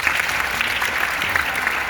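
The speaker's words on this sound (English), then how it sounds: "Big clap for them." A short burst of steady clapping from an audience, dense and even throughout, with no voices standing out.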